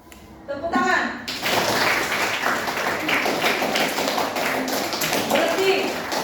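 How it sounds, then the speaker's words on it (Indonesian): A class of students claps hands together during a Simon Says game in a classroom, a dense burst of many overlapping claps that starts after a brief pause and continues steadily, with voices mixed in. "tepuk tangan."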